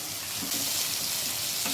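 Chicken pieces with carrot, beans and capsicum stir-fried in a pan for chicken fried rice, a steady close sizzle with scraping stirs throughout, no voices.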